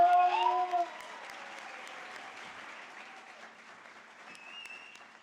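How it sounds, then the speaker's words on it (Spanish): Audience applause welcoming author Josué Moreno at a book launch, a steady patter of clapping that stays moderate and slowly thins out, with a brief tonal voice-like sound at the very start. "vamos a recibir con un fuerte aplauso al autor, Josué Moreno"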